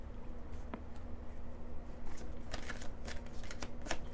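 Tarot cards are shuffled by hand in a soft, continuous riffle of flicking and sliding card edges, close and fairly quiet, with a faint steady hum in the background.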